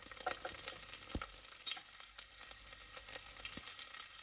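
Four cut garlic cloves go into a hot pan for a cooking dish, giving a soft continuous sizzle with light stirring taps and scrapes, close but fairly quiet, with no speech.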